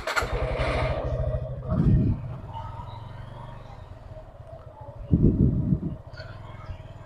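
Steady low engine drone from a 2023 Suzuki Gixxer SF ABS motorcycle being ridden, with two brief louder revving swells partway through.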